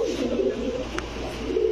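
Pigeons coo steadily and close by at a Bangladeshi pigeon market offering Rampuri, Golden and Pakistani Teddy breeds, a continuous low rolling coo that carries through the whole stretch.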